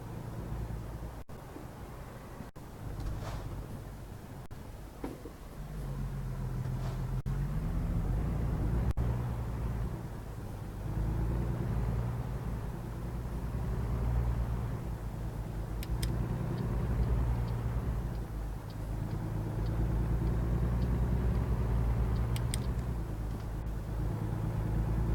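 Truck engine in American Truck Simulator drones steadily and loudly for the whole stretch, its low rumble rising and shifting in pitch as the rig accelerates, with no talk over it.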